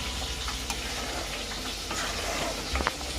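Chorchori, a Bengali mixed vegetable dish, is stir-fried in a home kitchen during a Saraswati Puja celebration: a loud, dense sizzling hiss with a few faint utensil clicks near the end.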